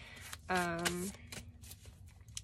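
Tarot cards are shuffled close up in a quick riffle and soft flutter, followed by light handling sounds, with a voice speaking briefly.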